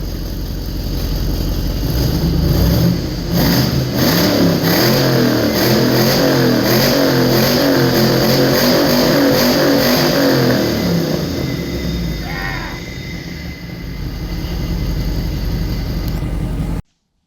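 An AMC car engine, freshly swapped in, runs and revs hard, a loud, rough roar swelling and falling close by for most of the stretch before settling toward idle and cutting off abruptly.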